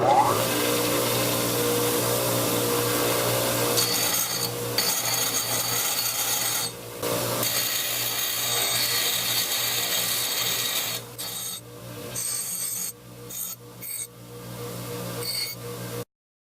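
Steady grinding on a metal bicycle wrench clamped in a vise, a continuous abrasive whir with a low hum that runs for most of the stretch, then breaks into short stops and restarts near the end.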